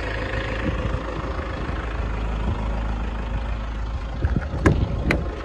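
The diesel engine of a 2012 Toyota Kijang Innova G manual idles steadily with the air conditioning on, a low rumbling drone, close and continuous, with a couple of brief clicks or knocks near the end.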